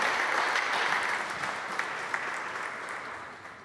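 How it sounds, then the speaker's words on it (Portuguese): Church congregation applauding during a Catholic Mass, a steady, dense wash of clapping from many hands that holds throughout and fades slightly toward the end, with no voices on top. "Dá uma salva de palmas para Jesus."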